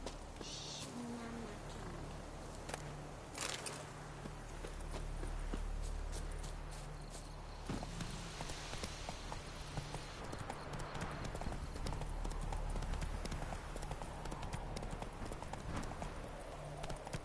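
Hooves of Geralt's horse Roach clip-clopping in a video game, a steady rhythmic trot of crisp hoofbeats over a low ambient background, moderately close throughout.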